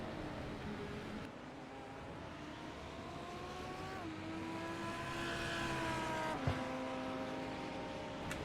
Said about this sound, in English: We'll watch Giancarlo's car as he comes around.